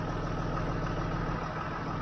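A tractor engine idles close by with a low, steady throbbing rumble and even pulsing beat, constant and unaccompanied by voices.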